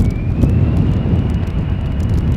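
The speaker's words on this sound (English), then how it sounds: "As we see this Embraer 175 from KLM taking off." A KLM Embraer 175 takes off at Schiphol with a dense low engine rumble and a faint rising whine, loud and close, partly buffeted by wind.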